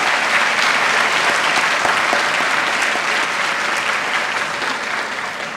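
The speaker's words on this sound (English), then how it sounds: "Could we give another round of applause to our band and our chorus for the national anthem" Loud, sustained applause from a large high school awards-day audience follows the national anthem performed by the band and chorus, a dense continuous roar of clapping that tapers slightly at the end.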